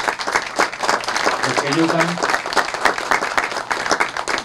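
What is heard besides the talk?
audience applauding the congressmen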